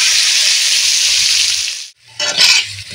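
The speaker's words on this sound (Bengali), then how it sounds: "এবারে ওই কড়ার তেলে দিয়ে দেব আলু।" Turmeric- and salt-coated potatoes dropped into hot oil in a wok, a loud steady sizzle and hiss that cuts off abruptly, then a short burst of renewed crackling with clatter.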